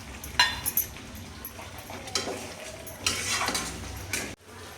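Peas going into masala in a pan for mattar paneer, a metal spoon scraping and clinking against the pan in several bursts of stirring, with faint frying underneath, close and fairly quiet.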